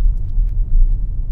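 Interior road rumble of a BYD Seal 6 DM-i Touring hybrid estate rolling over cobblestones, a loud, low, uneven drone with bumpy fluctuations across a short stretch and no engine note standing out.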